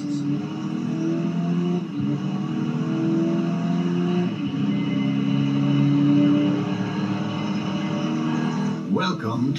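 A car from the video game Crash Time 3 drives on, its engine droning steadily with repeated shifts in pitch as it accelerates and eases off; a short rattle comes at the end.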